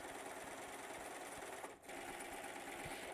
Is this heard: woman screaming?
no